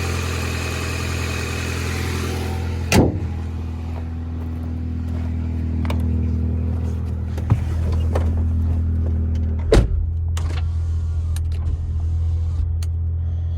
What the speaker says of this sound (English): Let's put this down and take it for a test drive.